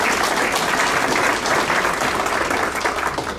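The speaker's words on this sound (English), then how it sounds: "Let's give Mr. Dexter another round of applause" Audience applause at a school district staff awards ceremony, a dense, steady round of clapping filling the room for the whole stretch without a break.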